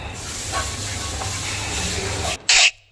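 Papad frying in hot oil in a home kitchen gives a steady, close sizzling hiss that holds for a couple of seconds, then flares into a short louder spit before cutting off.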